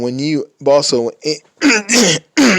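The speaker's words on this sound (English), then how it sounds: "I gotta clear my throat." Someone clears their throat several times up close, in loud, rough, voiced bursts separated by short pauses.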